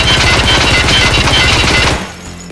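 PPSh submachine gun firing in Escape from Tarkov: a loud, rapid continuous burst of gunfire for about two seconds, then an abrupt stop with a brief fading tail.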